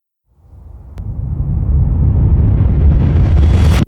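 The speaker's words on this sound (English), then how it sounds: "What you just heard was the landing of the U.S. Navy patrol blimp L-8." The U.S. Navy patrol blimp L-8 lands in Daly City with a deep rumbling roar that swells from nothing over a few seconds, loud and close, then cuts off sharply.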